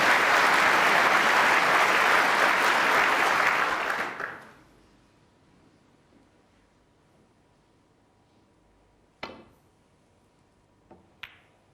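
A snooker World Championship semi-final crowd bursts into loud, dense cheering and applause, which holds for about four seconds before dying away into near silence broken by a couple of sharp isolated clicks.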